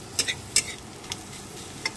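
Ingredients for a bread pulao fry in a pan while being stirred: a faint low sizzle under a few sharp spatula scrapes and taps, close by, with no voices.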